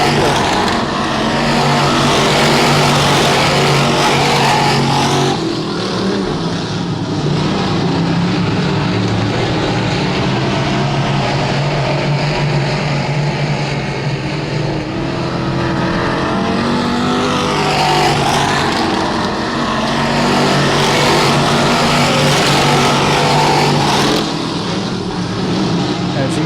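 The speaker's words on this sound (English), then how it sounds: "Cars kind of sucked to the bottom over here in turns 1 and 2, and they drift up coming out of turn number 2." Race cars on a dirt oval at Genesee Sportsman during heat races: loud, continuous engine roar swelling and fading as the field circles the turns, with a commentator talking over it throughout.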